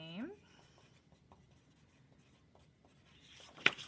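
Pencil on paper writes out a name in soft, faint scratchy strokes, a scattered run of light scrapes in a quiet room after a brief voice at the start.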